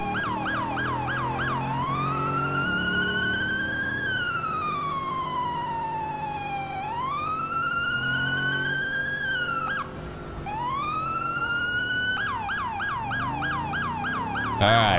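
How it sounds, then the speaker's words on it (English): Emergency vehicle siren in the video game EmergeNYC, loud and close, cycling through fast yelp warbles and slow rising and falling wails without pause over a low engine rumble. "The siren sounds a little warbly for some reason."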